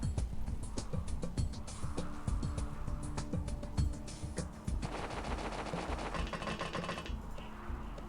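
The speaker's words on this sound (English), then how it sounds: "these fucking plasma shotguns," Plasma shotguns fire in XPiratez amid a busy stream of rapid shots and bursts, with a sustained buzzing barrage in the latter half that cuts off near the end.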